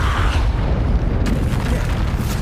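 Expulso explosion spell cast in the Hogwarts Legacy video game: a dense, booming blast that fills the whole clip with a sustained roar, a brighter crackling burst arriving about halfway through.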